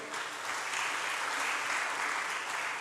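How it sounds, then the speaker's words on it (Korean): A church congregation breaks into steady, sustained applause during a Sunday service, a dense wash of clapping from many hands filling the sanctuary at even loudness throughout. "은혜 주신 하나님께 영광의 박수."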